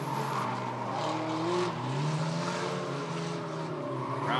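Bandits-class race cars in a figure 8 feature at Rockford Speedway, engines roaring loud and close with rising and falling pitch as they accelerate together, a continuous snarling drone.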